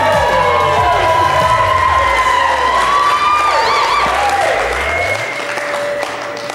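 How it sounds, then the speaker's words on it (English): Wedding guests in a mountain barn burst into loud, sustained applause and cheering for the bride, with whoops and shouts over dense clapping that fades slightly toward the end. "Can we all give Liz a round of applause?"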